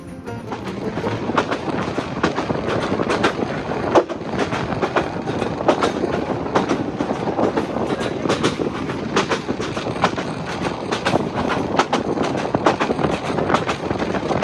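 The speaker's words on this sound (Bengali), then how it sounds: "এই ঝাঁকুনির যে শব্দ এবং চারপাশের যে পরিবেশ এটা কিন্তু আপনাদেরকে আলাদাভাবে কিন্তু মুগ্ধ করবে" Riding aboard the Egarosindur Provati Express near Dhaka, the carriage rattles and jolts over rail joints in a constant rapid clickety-clack, loud and close, with a steady rumble beneath.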